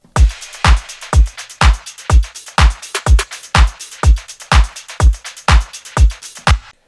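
A full drum kit with return-track effects, the snare given extra air, plays a steady, evenly spaced pattern of strong, punchy hits with bright reverb tails over about seven seconds, and there is no talking.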